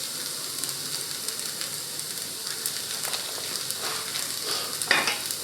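Steady, gentle sizzle of food frying in a pan while making spaghetti carbonara, a continuous soft crackle with a few brief louder pops near the end, heard alone without speech.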